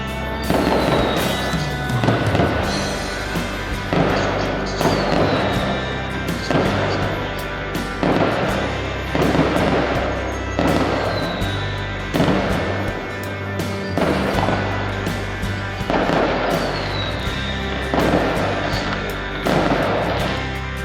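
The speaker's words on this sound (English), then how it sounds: "at night we were able to see the fireworks from the Centrum night market" Fireworks at the Centrum night market in Cameron Highlands, Malaysia, heard from a distance as repeated booming bursts and crackles every couple of seconds, some with rising whistles, continuing steadily with no voices.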